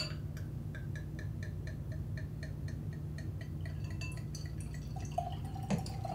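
A twist-off cap on a bottle of Dark Horse 2019 rosé wine is unscrewed, giving a quiet run of small, evenly spaced clicks and ticks from the metal seal over a steady low background hum.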